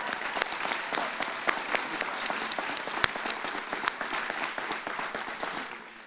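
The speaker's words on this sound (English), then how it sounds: "give a big round of applause to our Boy Scout volunteers." A crowd at a Pancake Day breakfast program in Liberal, Kansas claps for Boy Scout volunteers, a moderately distant spread of applause with individual sharp claps standing out, steady for several seconds before tapering slightly.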